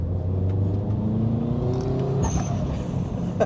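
A forged-engine Subaru Impreza STI hatchback of about 465 bhp roars close by, its engine note climbing steadily as it revs, then briefly breaking off before settling into a lower rumble.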